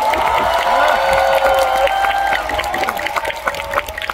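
Outdoor autumn concert crowd on the Gyeongchun Line Forest Trail giving moderate applause and scattered cheers over a sustained musical tone, the clapping growing sparse and patchy toward the end.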